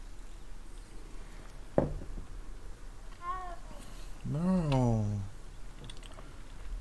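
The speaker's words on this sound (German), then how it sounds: "Oh, eine Katze." A tabby cat meows in the fantasy game Hogwarts Legacy: a sharp click first, then a short meow and a longer, louder drawn-out meow, over a quiet background hum.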